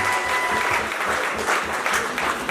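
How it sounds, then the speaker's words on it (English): Audience applause at a charity fundraising event: a dense, continuous round of clapping from a roomful of people, fairly close and even in loudness throughout. "Round of applause for David."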